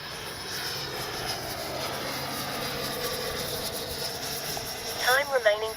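An FMS Avanti S 70mm electric ducted-fan RC jet flies on high rates, its steady whooshing whine continuous and fairly close, with a few brief chirpy sounds near the end.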